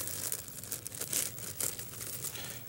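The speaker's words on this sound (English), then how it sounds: "Then take a scissors and cut out this circle." Scissors cut a circle out of a camera bag, a steady close crinkling and crunching of material with short sharp snips running the whole time, no voices.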